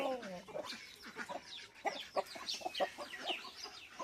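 Several farm chickens cluck in a steady run of short, close calls, with scattered squawks rising over a quiet yard.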